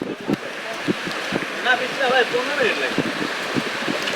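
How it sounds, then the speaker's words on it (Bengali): Rushing water from a waterfall and stream in the Sitakunda hills forms a steady broadband wash, with voices and brief tonal calls rising over it midway. "ঝর্ণার কাছাকাছি চলে এসেছে।"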